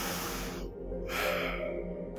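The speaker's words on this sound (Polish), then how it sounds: "Dlatego weźcie głęboki oddech" A single deep breath, a slow audible inhale and exhale heard close and fairly quiet, with no talking over it.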